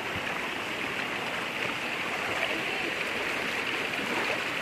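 Water at a natural spring pours in a steady, dense rushing wash, close and continuous without pause, no voices over it.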